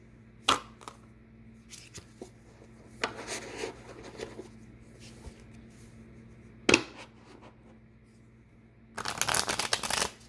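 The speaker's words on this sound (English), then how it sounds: "Let's pull out some cards here." Tarot cards are handled and shuffled close by, with scattered soft slides and flicks of single cards, then a dense, papery riffle of rapid shuffling near the end.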